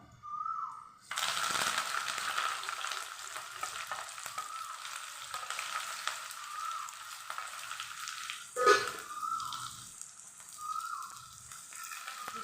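Onion, green chili and curry leaves hit hot oil already seasoned with cinnamon, cloves, cardamom and shahjeera, giving a loud, steady sizzle with a brief clatter partway through.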